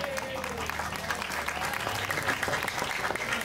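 Audience at a Balinese Calonarang temple performance clapping together, a busy sustained applause with some voices mixed in underneath.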